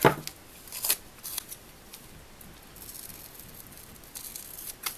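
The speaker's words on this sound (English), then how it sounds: "So I want to use this washi tape, maybe kind of this one here, and cut it out as a clip." Scissors snip washi tape for a travel notebook journal, with a few sharp, close cuts and soft rustles of tape against a quiet background.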